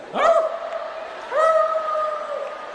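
A comedian imitates dogs with his voice, giving two drawn-out, wavering howls that rise and hold steady, separated by a short gap, loud and close with audience murmur beneath.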